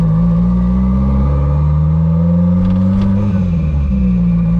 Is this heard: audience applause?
no